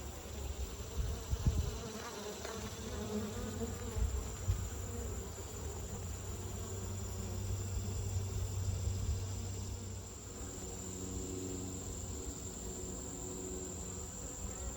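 Honeybees in an opened hive make a steady, dense buzz close by, continuous throughout with no talking.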